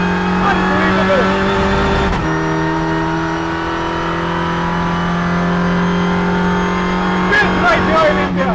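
A Volkswagen Polo Vento Cup race car engine howls steadily and loudly, with a sharp gear change early on and more revving near the end, over faint background chatter.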